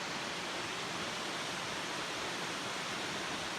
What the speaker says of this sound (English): I've reached a pretty good vantage point of the falls, and it is a big waterfall